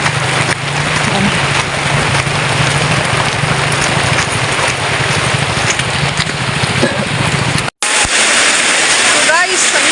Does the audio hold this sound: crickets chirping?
no